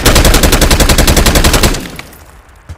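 A rapid machine-gun burst in Call of Duty: Warzone Mobile, loud and close, about a dozen and a half evenly spaced shots lasting under two seconds, then cutting off into quiet with a faint trailing echo.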